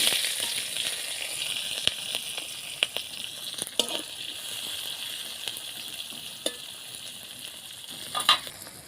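Chopped raw onion fries in oil left over from frying eggplant and pointed gourd, a soft steady sizzle with occasional sharp clinks of a utensil against the pan, no talking.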